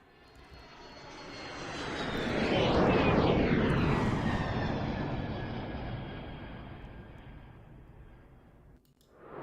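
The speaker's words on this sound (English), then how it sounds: "Let me fire up Mikey's F-16. He's about to fly overhead here." An F-16 fighter jet sound effect roars in, swelling to a loud whooshing peak as it passes overhead, then slowly fades with a descending whine before cutting off abruptly.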